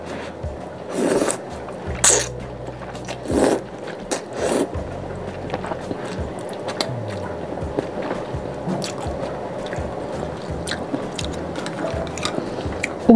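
Spicy Luo Si rice noodles being eaten up close: wet chewing and soft slurps, with a few louder bites early on, then steady quieter mouth sounds under a faint background hum.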